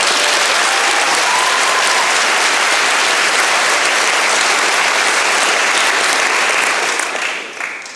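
Graduation ceremony audience applauds teachers and staff, a dense, loud, sustained clapping from a large crowd that tapers off near the end.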